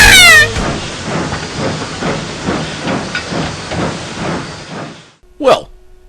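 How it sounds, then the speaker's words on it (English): A train passes close by with a loud, sustained hissing roar and rhythmic rumbling pulses, then cuts off abruptly, followed by a brief sharp sound. "a train is about to pass by"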